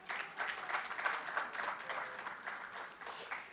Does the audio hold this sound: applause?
yes